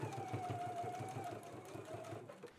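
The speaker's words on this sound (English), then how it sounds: "we can go ahead and stitch at a 5/8 inch seam allowance" A sewing machine stitches a garment seam at a 5/8 inch allowance, a steady close mechanical whir with rapid needle pulses running almost the whole time, alone and without talk.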